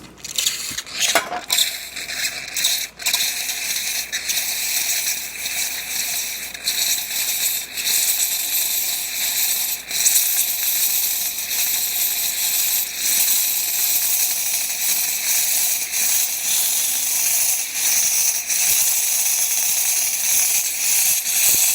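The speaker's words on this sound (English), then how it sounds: "Let's go ahead and test the steam." Steam wand of a DeLonghi PrimaDonna espresso machine after a full tune-up, giving a loud, steady, broadband hiss that runs continuously for about twenty seconds after a brief clatter at the start, with no talking.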